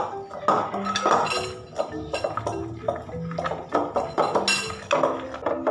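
Klepon dough with pandan being stirred in a bowl, with a utensil clinking and scraping against the bowl in irregular, fairly close knocks while someone talks.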